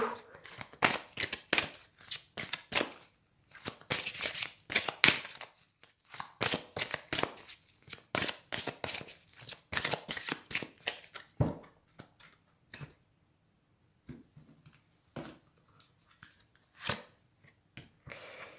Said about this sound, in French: Je vais tirer maintenant une carte pour l'amour, pour les taureaux.